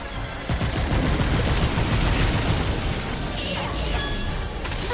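Rapid gunfire from a gun in Remnant 2, continuous loud bursts of shots blending into a dense rattling barrage that runs for the whole stretch without a break.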